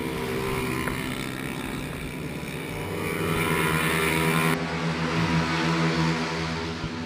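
Mini GP 110 racing motorbikes on the Kotarr speed circuit in Burgos, several engines whining and revving together at a steady high pitch, loud and continuous with a shift partway through.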